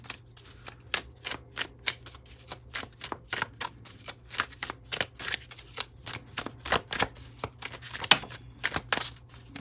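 A tarot deck is shuffled by hand in a quiet room: rapid, crisp card riffles and slaps repeat steadily throughout, with one sharper snap near the end, and no one speaks.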